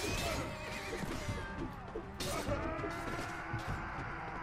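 A horse in the combat video game Mount & Blade Warband gives a shrill neigh amid battle clatter, crashes and hoof thuds, fairly loud and busy throughout.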